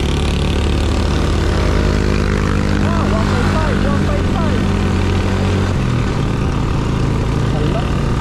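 A weak 155cc motorbike engine drones loudly and steadily on a mountain road from Montalban to Boso-Boso, Antipolo, Rizal, revving with little pull under continuous wind roar.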